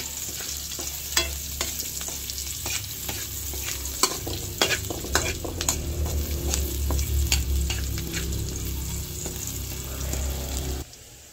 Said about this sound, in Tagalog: dito ko na rin po ginigisa yung pong bawang at sibuyas dito po sa aking pinagprituhan